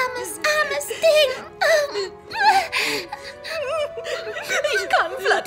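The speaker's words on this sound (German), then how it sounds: "Ich kann Fluttershy nicht weinen sehen." The cartoon pony Fluttershy, in a German dub, cries in wavering high whimpers and sobbing wails that rise and fall in short, breathy bursts.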